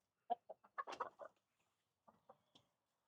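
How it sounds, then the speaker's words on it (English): A big black cockerel clucks in a short run of low, throaty calls, then a brief pause and a few softer clucks, close by and otherwise quiet. "Big black cockerel."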